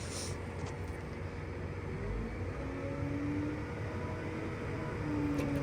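A farm tractor engine runs steadily as a low, continuous drone with a slight rise in throttle toward the end; no voices are heard.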